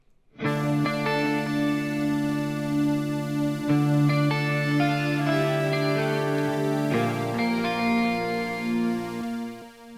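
Sustained clean guitar chords blend with a soft, steady synth pad underneath, forming a full, continuous wash of harmony that changes chords every few seconds.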